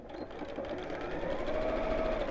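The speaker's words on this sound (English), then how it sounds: "so again, just sew around the edge." A sewing machine stitching around the edge of a fabric drawstring bag, a steady fast close whirr that runs without a break.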